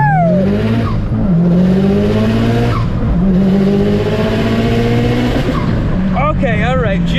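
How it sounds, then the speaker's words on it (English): A Subaru WRX launches at wide open throttle from a standstill with the clutch slipped. The engine roars loudly and rises through repeated rev sweeps, with a gear change midway and a brief tire chirp near the end. "Wide open that throttle."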